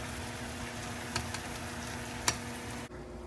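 Onions fry in a pan with a steady close sizzle, broken by a few light scrapes of stirring, before the sizzle drops away near the end.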